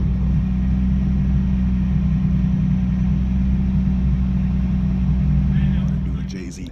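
A JZ-powered car pulls hard under boost on a freeway, its engine humming in a loud, steady low drone for several seconds before easing off near the end.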